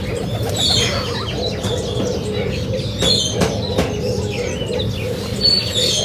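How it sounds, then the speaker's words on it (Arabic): Bird calls from a stone-curlew (karawan) at an animal reserve, sounding as repeated chirps and cooing notes, moderately loud and steady over a continuous low rumble of background noise, with no speech. "طير الكروان يسمى"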